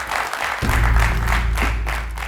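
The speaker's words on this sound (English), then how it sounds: "Let's give a round of applause to the captain." A studio audience at a school quiz contest between a girls' high school and Nalanda College applauds the team captain, steady, moderately loud clapping with a low droning tone underneath.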